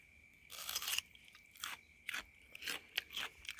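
Someone bites into a fresh green plum (maesil) picked in a vegetable garden and chews it, making a loud crisp crunch followed by several close, wet crunching chews in bursts with short pauses.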